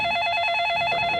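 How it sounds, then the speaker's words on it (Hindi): An electronic telephone ring, a loud warbling tone pulsing rapidly and steadily for about a second, with no voices over it. "वर्मा साहब का फोन था"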